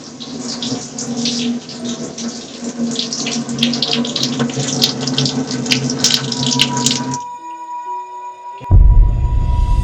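Water gushes steadily from a tap for several seconds, then cuts off, leaving a faint hum and a brief thump.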